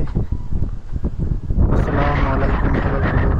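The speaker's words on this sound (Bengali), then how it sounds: "প্রচন্ড বাতাস হচ্ছে আলহামদুলিল্লাহ," Strong gusty wind blowing outdoors before rain in rural Bangladesh, roaring and buffeting loudly against the microphone, building into a sustained rush after a choppier start.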